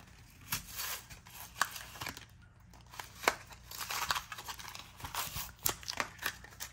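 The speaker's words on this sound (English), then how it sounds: "Let's get this out of the package." Crinkly plastic packaging is torn and crumpled open around a Dot Liner Flick double-sided tape dispenser, with irregular close crackles, snaps and rustles and no talking.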